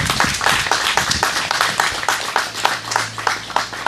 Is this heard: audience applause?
yes